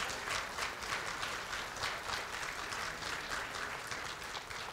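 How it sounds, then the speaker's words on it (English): A Hamilton City Schools Athletic Hall of Fame audience applauds the 2019 class, a steady wash of many hands clapping, moderately distant and sustained for several seconds. "let's have a big round of applause for the 2019 class of the Hamilton Athletic Hall of Fame"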